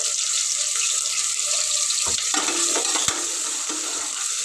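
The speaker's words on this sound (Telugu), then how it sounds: "బాగా వేడైపోయింది ఉల్లిగడ్డ అలాగే ఉల్లిగడ్డ అయితే కొంచెం దొరగేయాలి" Onions fry in a hot pan with a soft continuous sizzle, broken by a couple of clinks and scrapes of a utensil stirring against the pan.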